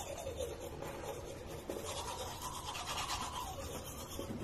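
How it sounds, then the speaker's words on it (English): Teeth brushed with a toothbrush during a morning skincare routine, a close, continuous scrubbing bristle rasp with a steady back-and-forth texture, quiet and alone with no talk. "we're gonna brush our teeth"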